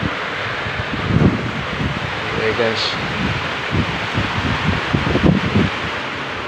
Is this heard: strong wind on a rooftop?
yes